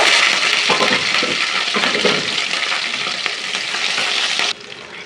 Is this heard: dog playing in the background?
no